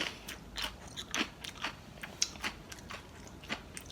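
Close crunching and chewing on diet pickled radish sweetened with stevia, a steady series of crisp bites and munches without talk.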